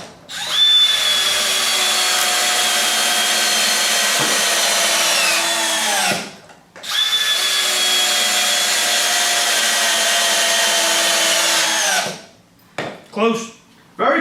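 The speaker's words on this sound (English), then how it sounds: "this is an installation driver, 3-inch wood screws on speed 2s" Milwaukee and Bosch installation drill/drivers drive 3-inch wood screws on speed 2, each a loud, sustained whine of about five seconds that rises and bogs under load, followed by brief clicks and handling noise.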